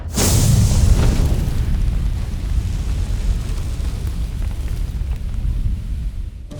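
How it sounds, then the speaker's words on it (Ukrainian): A deep, heavy boom bursts out at the start and rolls into a long, rumbling roar that slowly fades, with no voices present. "Потужні вибухи були і в Токмаку."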